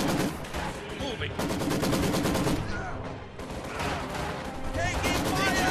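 Dense, continuous gunfire and machine-gun bursts from the World War II strategy game Company of Heroes 2, rattling loudly throughout with battle noise and brief game voice lines mixed in.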